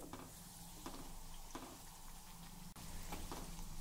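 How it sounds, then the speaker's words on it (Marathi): Sweet jaggery puris deep-fry in oil over a low gas flame, making a soft, steady sizzle and crackle that is faint and continuous throughout, with no talking. "अगदी मंद गॅसवर एकसारखा रंग येईपर्यंत आपल्याला ह्या पुऱ्या तळायच्या आहेत।"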